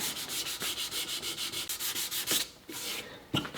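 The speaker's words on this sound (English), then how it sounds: "we're going to continue to sand this with a 180 grit" Sandpaper of 180 grit rubs over a wooden rifle stock held in a vise, close-up rhythmic back-and-forth strokes in a quick steady series, then a pause and a few slower passes.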